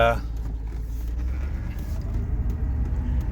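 A GMC 2500HD pickup truck accelerating through its gears, with a steady low engine rumble and drivetrain drone running close and continuous throughout.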